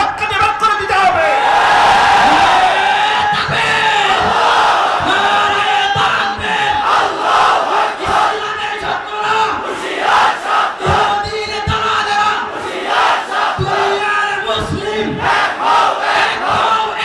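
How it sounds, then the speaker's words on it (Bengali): Large crowd at a religious gathering chanting the Nara-e-Takbir slogan, loud rhythmic shouted calls rising and falling in repeated waves, with a voice leading amid the roar. "এই যে নারায়ে তাকবীরের স্লোগান দিয়েছে"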